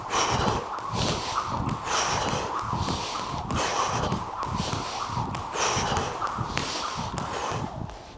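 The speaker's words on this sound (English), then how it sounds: "So hopefully you can hear the breathing there." Heavy rhythmic breathing during a jump rope workout, repeated forceful inhales and exhales in steady cycles, loud and close with a rough, rasping texture.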